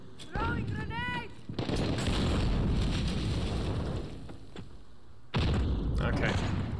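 A grenade explodes in Call of Duty: Modern Warfare on the Killhouse map. A loud, broad blast rumbles for several seconds, and a second heavy boom follows near the end. A voice speaks briefly just before the blast.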